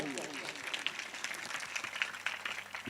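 Scattered clapping from an audience at a village devotional singing competition, with uneven bursts of hand claps rising and falling, fairly faint and distant, with talk mixed in.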